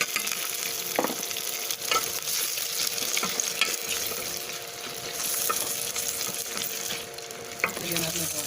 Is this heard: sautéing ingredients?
yes